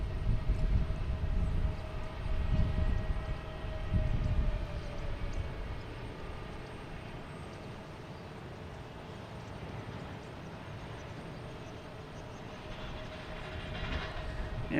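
A Delta Embraer E175 jet arriving from LaGuardia at Boston Logan Airport sends a low, rumbling engine roar that is strongest early on, then fades to a steady distant drone and swells slightly again at the end.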